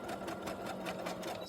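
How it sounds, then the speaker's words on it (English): Sewing machine running a triple stitch on a ruffle for a fabric journal, run slowly without the foot pedal, a fast, even mechanical chatter with regular needle beats throughout, fairly quiet and steady. "I'm going to slow my machine down a bit because I'm not using my foot pedal"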